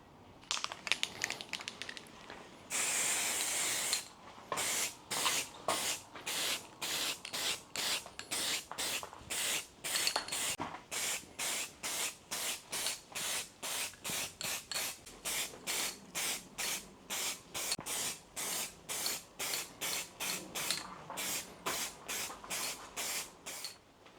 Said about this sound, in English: basically I'm now going to spray it with a coat of primer